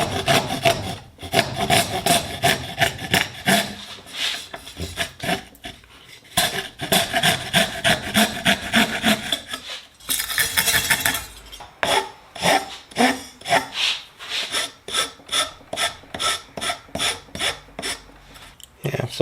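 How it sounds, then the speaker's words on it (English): Hacksaw and hand file trimming a forged carbon fiber part, likely a light mount on a Sonex aircraft: close, steady rasping and rubbing strokes, with denser, rhythmic back-and-forth cuts toward the end, no voices. "a combination of the hacksaw and a file cleans that up nicely"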